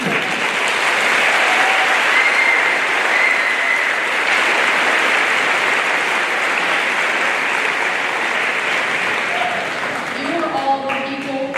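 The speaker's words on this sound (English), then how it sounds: "Can we give a round of applause for the family, teachers, faculty, and administration program?" Steady, full applause from a graduation ceremony audience continues for over ten seconds, with faint voices and a few cheers mixed in near the end.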